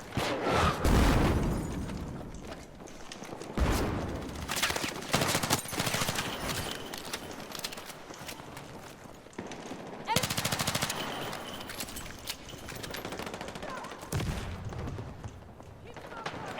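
Sustained bursts of machine gun fire in Battlefield 6, rapid rattling volleys and gunfire layered over booms, loud and nearly continuous, with soldiers' voices calling out beneath the shooting.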